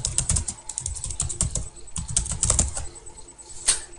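Rapid, close clattering of computer keyboard keys pressed by hand, a dense irregular run of clicks loud and unaccompanied by talk.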